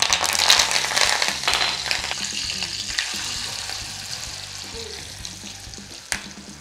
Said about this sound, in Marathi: तर तिथं तेल तापलं आहे, आपण आधी घालूया जिरं, मोहरी, हिंग